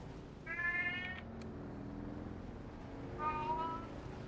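A cat meows twice in the Dune Awakening video game, two drawn-out, tonal calls about three seconds apart over a low, steady background hum.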